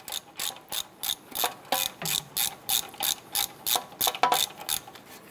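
Quick bursts of a ratchet wrench spinning out the front wheel hub bolts on a 2008-2012 Honda Accord, about a dozen rapid clicking runs in an even rhythm, close and clear with no talking.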